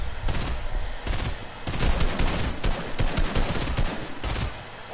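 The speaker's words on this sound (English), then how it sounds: "Dang, they're shooting in the distance." Repeated bursts of gunfire crackle from the distance in an online shooter match, sharp rapid volleys and single shots scattered across the stretch, fairly loud with no talking over them.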